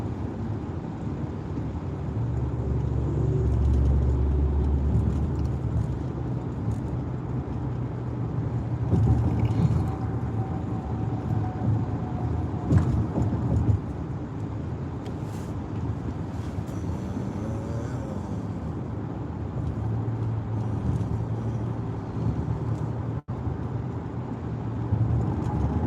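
Steady low rumble of road traffic heard from inside a car stuck in backed-up traffic during a DoorDash delivery drive, with continuous engine and road noise and no talking.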